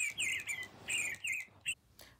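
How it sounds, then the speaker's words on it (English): Electronic toy bird, a Joy for All Walker Squawker, singing in its magnet-triggered singing mode while perched in a handmade nest swing, giving repeated bright chirps and warbling phrases up close with short pauses between bursts. "when Walker Squawker is attached to a magnet, Walker Squawker goes into singing mode"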